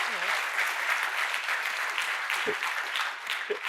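Audience applause at a Dean's Distinguished Speaker Series talk, a steady dense wash of clapping filling the room throughout, fairly loud and continuous with no speech over it.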